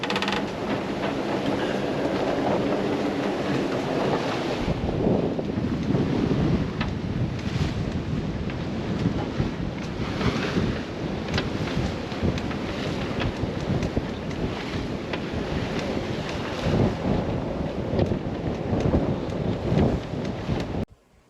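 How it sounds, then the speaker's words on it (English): Strong wind gusting above 30 knots roars over a sailboat on open water, with loud, rushing wind noise buffeting the microphone in continuous waves and surges. "So the wind is gusting more than 30."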